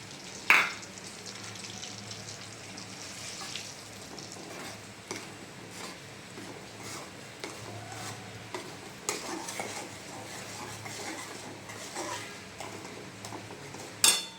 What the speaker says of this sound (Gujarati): જો આ ઘી હે ને ગરમ થઈ ગયું છે હવે એમાં આ એક વાટકો લોટ ઉમેરી દઉં